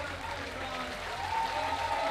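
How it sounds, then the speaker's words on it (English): Applause from the audience at a bouldering competition final in Graz, a steady wash of clapping that swells slightly louder toward the end and continues throughout. "And gets a really great applause."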